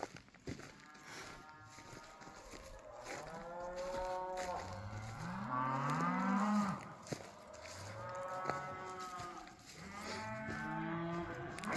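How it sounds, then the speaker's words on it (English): A herd of cows moos repeatedly along a spring creek trail in the countryside, long drawn-out lowing calls overlapping one after another at mid distance, steady throughout with no talk. "All the cows took off."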